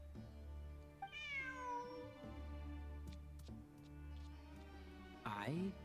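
A cat in Genshin Impact gives a long, rising and falling meow near the start, then a second quick meow at the end, with a steady game music bed and a voice talking underneath.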